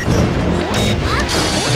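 Forward smash hits in Super Smash Bros, two heavy impact crashes in quick succession over loud continuous game and crowd noise, punchy and close.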